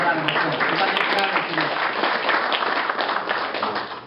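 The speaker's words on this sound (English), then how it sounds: "Give her a round of applause." Audience applause for an honoree at a Brooklyn Irish heritage celebration, a dense, steady wash of clapping filling the room throughout with murmured voices underneath.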